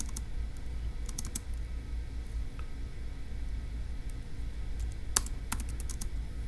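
Notes are typed on a computer keyboard, with scattered quick key clicks in small bursts over a low steady background hum, close and fairly quiet, with no voices.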